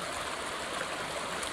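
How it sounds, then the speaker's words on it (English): Continuous rushing roar of the Whitewater River running unusually full through open desert near the San Gorgonio Wilderness, a steady close wash of flowing water with no other sounds. "There's a huge flowing river out here."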